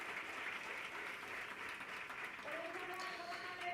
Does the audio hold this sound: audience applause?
yes